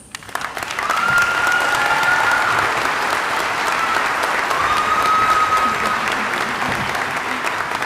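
Sustained, full applause from a large commencement audience, a dense roar of clapping that rises quickly and holds steady, with a faint tone drifting over it.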